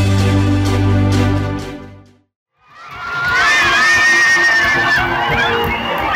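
A crowd at a Christian church New Year celebration in Abidjan shouts with joy. Loud music gives way to a dense roar of cheering and high-pitched cries that swells and stays loud.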